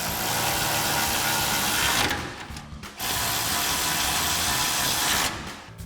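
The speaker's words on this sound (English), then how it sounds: "Then we'll go ahead and use our 13mm socket and extension on our ratchet to tighten these back down." A ratchet with a 13mm socket on an extension tightens brake bracket bolts on a Silverado 1500 during a 4-inch suspension lift install, a steady close-up mechanical clicking that pauses briefly twice.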